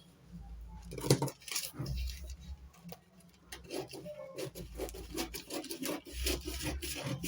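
Fabric being cut out for a corset, with repeated scissor snips and rubbing rasps against a table in an irregular rhythm, close and moderately loud, with no talk.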